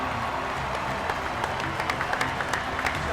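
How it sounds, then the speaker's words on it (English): A stadium crowd at a New England Revolution home soccer match applauds as Diego Fagundez is substituted off, a steady dense wash of clapping with scattered sharper claps and distant cheering throughout. "Good round of applause for Diego Fagundez."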